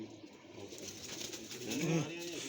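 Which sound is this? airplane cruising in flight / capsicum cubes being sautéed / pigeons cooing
pigeons cooing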